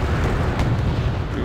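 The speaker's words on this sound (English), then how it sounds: "I'm getting hit by artillery" Artillery shells pounding around tanks in the real-time strategy game Wargame Red Dragon, a dense, continuous rumbling roar of explosions, loud and steady throughout the short span.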